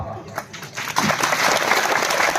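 Audience applause at a Hindi kavi sammelan poetry gathering, a scattered few claps swelling after a second into steady, loud, dense clapping from a large crowd.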